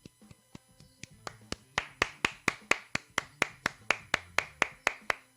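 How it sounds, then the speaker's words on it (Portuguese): Rhythmic clapping honoring coach Diniz during a Brazilian sports segment, starting with a few sparse claps and building into a steady, loud run of sharp, evenly spaced hand claps with no talk over it. "Palmas para você, Diniz."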